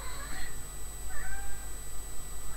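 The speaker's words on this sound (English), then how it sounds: "I can hear this cat going, screaming at me." A cat meows loudly indoors, two drawn-out, plaintive calls a moment apart over a steady background hum.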